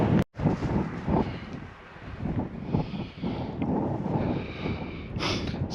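Wind buffets the microphone on a coastal path above Porlock Bay near Minehead, a rough continuous rumble that swells and drops in gusts with no talking.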